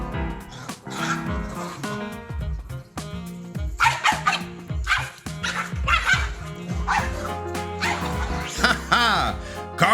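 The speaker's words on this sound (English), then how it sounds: "Taunting dogs is a hobby of mischievous monkeys." Dogs bark, yip and whimper at taunting monkeys, a busy run of close, loud barks and yelps with overlapping voices throughout.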